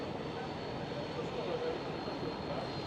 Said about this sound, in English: the KLM City Hopper E195 E2 just arrived as well, vacating the runway